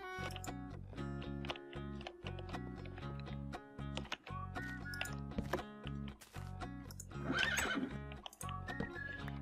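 Horse neighing in the Minecraft video game, set against steady background music with a denser burst of activity near the end; no talking is heard.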